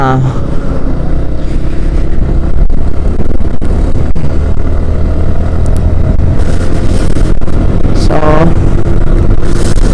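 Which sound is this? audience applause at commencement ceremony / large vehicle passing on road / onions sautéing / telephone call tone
large vehicle passing on road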